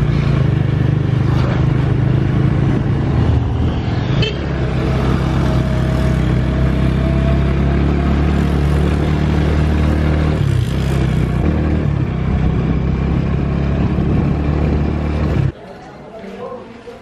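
A motorcycle taxi carries a passenger back to an apartment on Lamu, Kenya, at the end of the day. Its engine drones steadily with road noise, and faint voices murmur in the background until the sound drops off near the end.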